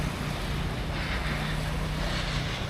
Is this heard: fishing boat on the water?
yes